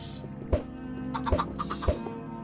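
Chickens in the video game Minecraft giving short clucks, three sharp close blips spaced about a second apart over a low steady game background hum, with no talking.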